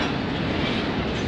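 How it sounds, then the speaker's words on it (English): Long CN container freight train passing at night at Bayview Junction, a loud, continuous rumble of rolling cars and wheels heard close by, with no voices. "it's a big train. Lots of containers heading to Chicago."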